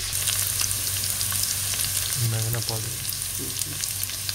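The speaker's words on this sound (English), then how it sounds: "Keep the flame high because you want to extract that sweetness out of those onions. You want to fry them nicely." Onions fry over a high flame for vegan Bombay potato curry, a steady close sizzle broken by a few soft stirring scrapes near the end.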